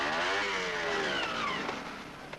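A trials motorcycle engine revs under a changing throttle, its tone sweeping up and then easing down, loud and close the whole time with no voices.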